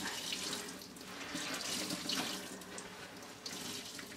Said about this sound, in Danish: Så klemmer jeg så meget vand ud, som jeg kan.